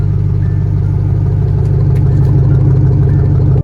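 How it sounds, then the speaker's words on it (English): A rebuilt Ford Mustang engine runs steadily close by, a loud, continuous low rumble with a faint whine on top, before cutting off abruptly at the end. "I'm going to show you how it sounded when we rebuilt the engine"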